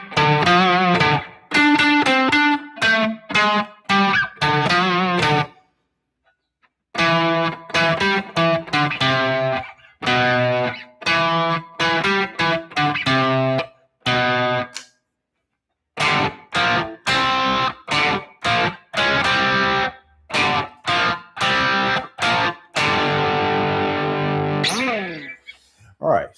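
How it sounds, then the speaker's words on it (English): Distorted electric guitar plays three simple, legendary rock riffs in turn, each a loud, rhythmic run of chugging chords and single notes, separated by short pauses, with effects-heavy tone and no talking. "what you just heard was the three simple but legendary riffs that every guitar player should know"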